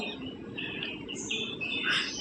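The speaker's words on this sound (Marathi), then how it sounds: "पक्ष्यांचा किलबिलाट येतो आहे ऐकू" Faint birds chirping and tweeting in the distance in the morning in the Konkan, with quick high calls over a quiet outdoor background.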